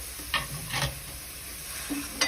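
A spoon scrapes and stirs sweet vermicelli with sugar and water in a pan with a soft sizzle underneath, a few distinct scraping strokes at an unhurried pace.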